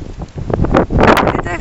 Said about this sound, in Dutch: Het waait behoorlijk.